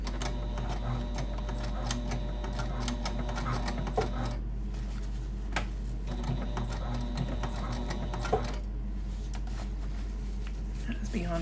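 A sewing machine stitches a bag in short whirring, clattering runs broken by pauses, heard fairly close. A steady low hum sits underneath, and a person talks between the bursts.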